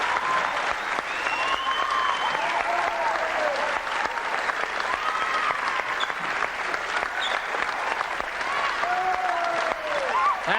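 Sustained applause and cheering from a crowd at a men's volleyball club final in Porirua, thick rapid clapping with scattered shouts and whistles rising over it, constant and energetic throughout.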